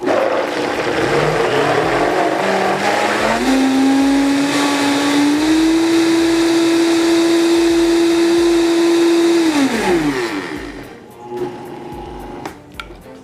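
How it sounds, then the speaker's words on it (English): A blender purees black beans for brownies, a loud steady motor whir that rises in pitch as the mixture smooths, holds, then spins down and stops near the end. "So we're just going to puree this quickly."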